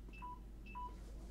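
A mobile phone with a low battery gives two short electronic beeps in quick succession, close by in a quiet room with no talk.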